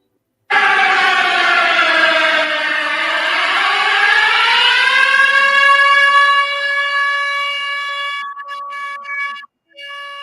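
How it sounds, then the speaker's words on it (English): A loud, steady siren wails, its pitch rising slowly to a sustained high tone before cutting off near the end. "Sound the siren."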